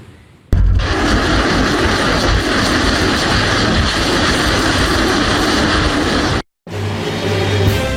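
Indonesian Air Force F-16 fighter jets fly during a military exercise alongside warships, making a loud, continuous roar that holds steady, cuts out abruptly for a moment near the end, then resumes.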